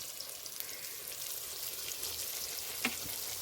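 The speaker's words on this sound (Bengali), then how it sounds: "এবার ভালো করে কষে নেব" Spices with salt and turmeric sautéing in a pan for rohu fish curry, a soft steady sizzle with faint stirring and a small clink near the end, fairly quiet.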